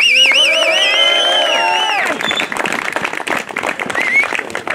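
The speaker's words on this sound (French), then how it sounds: "On peut les applaudir parce qu'ils se sont vraiment tirés la bourre." Crowd applause at a snowscoot derby race event in Isola 2000, ski resort setting; loud tonal horn-like sounds give way to scattered clapping and cheering outdoors.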